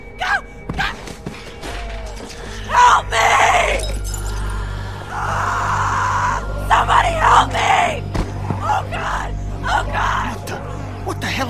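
A girl screams in distress during a zombie scene in The Walking Dead video game, with loud shrieking bursts, crashing effects and tense voices between them.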